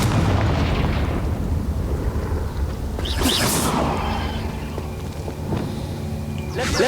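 A Confringo fire-blast spell in the Hogwarts Legacy video game goes off as a sharp, crackling explosive burst midway through, over a loud, rumbling game soundscape with further fainter bursts.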